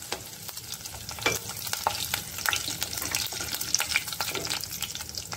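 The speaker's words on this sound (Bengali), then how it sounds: "এবার দিচ্ছি জিরে অল্প, একটা শুকনো লঙ্কা আর কারি পাতা।" Cumin seeds, a dried red chili and curry leaves hit hot oil for a chicken keema tadka, giving a quiet, steady crackling sizzle with small pops and occasional stirring scrapes.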